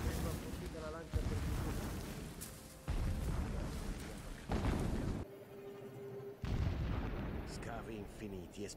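Repeated explosions and bursts of combat in the video game Horizon Zero Dawn, loud heavy booms rolling one after another in dense succession with a brief quieter lull midway.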